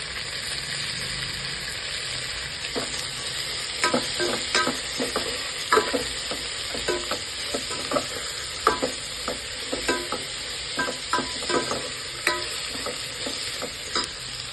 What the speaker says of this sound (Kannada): ಈಗ 1 ಟೊಮೆಟೊ ಹಣ್ಣು ಹಾಕ್ಕೊಳ್ಳಿ,